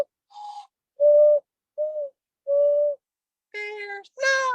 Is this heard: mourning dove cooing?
yes